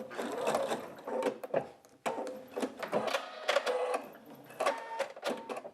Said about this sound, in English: place it under your machine and just go back and forth over it a couple of times